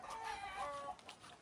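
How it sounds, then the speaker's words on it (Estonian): Chickens cluck and cackle close by in a barnyard, a short bright burst of overlapping calls that tails off into faint clucks. "Issand jumal, mis kaagutamine siin käib."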